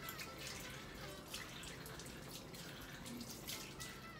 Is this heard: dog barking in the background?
no